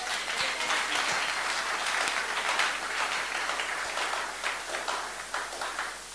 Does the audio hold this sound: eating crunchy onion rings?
no